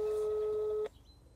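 A telephone line tone sounds during a call to a wildlife rescue, a steady electronic tone held for under a second before cutting off abruptly into quiet line noise.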